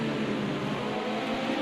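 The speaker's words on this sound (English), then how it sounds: "But you can hear how Johan is just feathering that throttle" A Ford vintage touring car in the Project Cars 2 racing game holds a steady, buzzing engine drone while the driver feathers the throttle, heard alone and fairly loud throughout.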